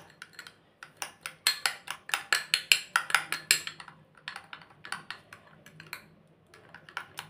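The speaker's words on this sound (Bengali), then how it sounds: "এবার ভালো করে এটাকে মিশিয়ে নেব।" A spoon clinks and scrapes rapidly against a bowl while watermelon and honey face pack is stirred, a quick run of sharp close taps that pause briefly and then resume more loosely.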